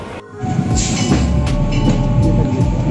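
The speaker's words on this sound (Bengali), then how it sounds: "হাওড়া থেকে একদম ঠিক সময়ে আমাদের ট্রেনটা ছেড়ে দিল" A train leaving Howrah rumbles steadily along the rails, loud and close, with metallic wheel squeals and rhythmic clacks rising over the continuous roar.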